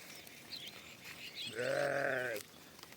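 A sheep grazing on dry grass gives a single clear bleat lasting just under a second, moderately close, against a quiet outdoor background.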